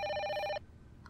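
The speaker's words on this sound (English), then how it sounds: "The phone will ring, and nobody will be there." In the Fatal Frame: Maiden of Black Water video game, an old telephone gives one short trilling ring in a quiet house, a bright buzzing bell burst lasting about half a second before cutting off to near silence.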